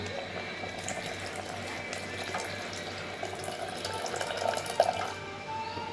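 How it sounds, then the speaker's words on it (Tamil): Tamarind water is poured into a simmering kuzhambu, giving a steady, soft liquid rush with light bubbling that continues without a break and with no talking. "இதுக்கடுத்து புளி தண்ணி ஊற்றிக்கலாம்."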